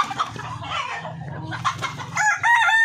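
Chickens clucking nearby with a rooster crowing loudly toward the end, no talking.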